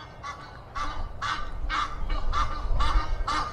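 Flock of birds on a garden roof honking loudly in a rapid, repeated goose-like series, about seven harsh calls in quick succession over low background rumble.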